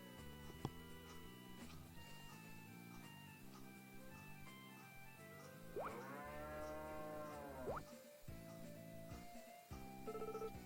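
A cow in the Story of Seasons farming game lets out one drawn-out moo over light background music, clear and fairly prominent.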